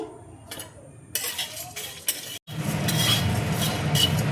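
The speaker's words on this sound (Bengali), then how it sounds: "এই মশলাগুলো দেখো আমি ড্রাই রোস্ট করে নেব।" Whole spices, including fennel seeds and cardamom, are dry roasted in a pan, giving scraping clinks of a spoon against metal and then a steady crackling rustle as the seeds toss and toast.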